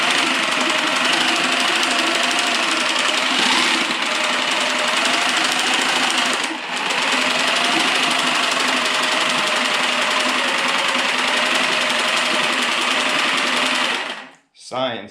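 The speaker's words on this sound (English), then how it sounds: "I don't have a paint shaker. So, this is the next best thing. Anybody can use it, it's just a sawzall" A reciprocating saw buzzes fast and steadily, rattling a paint can it is being used to shake. The loud, even chattering runs for about fourteen seconds, then cuts off abruptly.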